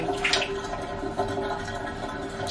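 Bath water from a dog's bath draining away, a steady rushing, gurgling wash of water close by with a few brighter splashes near the start, no voices.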